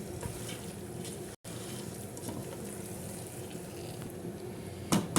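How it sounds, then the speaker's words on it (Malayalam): Chicken biryani masala, made with fried onions, heating in a pot and just starting to boil, with a soft continuous bubbling sizzle throughout and a short clatter near the end. "ഇപ്പം തന്നെ ഇത് നല്ലോണം ചൂടായി വന്നിട്ടുണ്ട് ചെറുതായിട്ടൊക്കെ തിളക്കാൻ തുടങ്ങിയിട്ടുണ്ട് കേട്ടോ"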